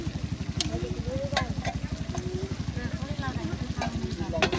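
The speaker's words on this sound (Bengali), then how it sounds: "এখন কিন্তু সেই তেলে ভেজে নেওয়া আপনার জিরা পেঁয়াজ রসুন একসাথে এখন কষে নেওয়া হবে" Cumin, onion and garlic fry and stir in hot oil at an outdoor riverside cooking spot, a steady sizzle with a rhythmic low engine-like idle running underneath throughout.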